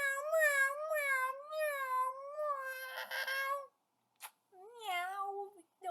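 Cartoonish cat meows from the Twisted Wonderland video game: a run of drawn-out, wavering meows, then a short pause, a brief click, and one more meow, loud and close with no other sound.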